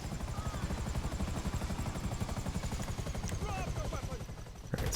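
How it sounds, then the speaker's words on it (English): A helicopter in the video game GTA Online thrums with a loud, steady rotor chop close by, its rhythmic blade pulses continuous throughout, with a sharp thump at the very end. "these helicopters aren't going to last very long if I keep bouncing them off the ground"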